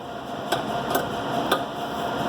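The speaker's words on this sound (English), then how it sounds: "you get to watch me painfully take this off with a wrench" Sharp metallic clanks as a wrench works loose a tie rod end on a Chrysler 300: three distinct hits spaced about half a second apart over steady background noise, fairly close and moderately loud.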